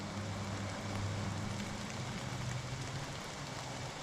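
Rain pours down on the Appalachian Trail as a steady, even hiss with no letup and no voices over it.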